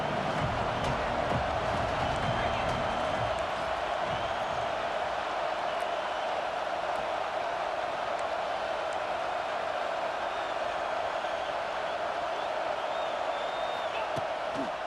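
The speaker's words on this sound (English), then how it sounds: "how nice is it to have the home crowd going absolutely bananas?" Home crowd noise from a College Football 26 game fills the stadium with a dense, steady roar of cheering, constant and loud throughout, with no let-up.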